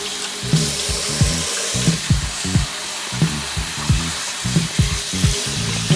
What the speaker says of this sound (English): Just trying to wash it real good.